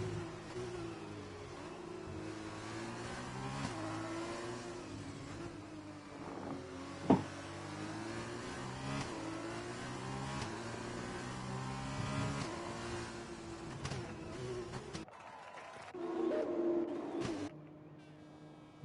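Formula 2 race cars in the F1 2020 video game run at the British round behind a safety car, their engines a steady drone with shifting pitch, then cutting to a quieter different engine tone near the end.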